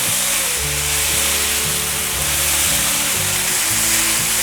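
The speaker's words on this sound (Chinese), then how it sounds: "快速的翻炒。" Okra seasoned with rose salt is tossed quickly in a wok, giving a loud, continuous hissing sizzle that never lets up. Background music plays underneath.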